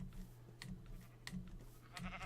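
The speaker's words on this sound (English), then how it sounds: "Yay, stupid sheep." A Minecraft sheep bleats a few times in quick succession, short nasal cries repeating over a low background hum.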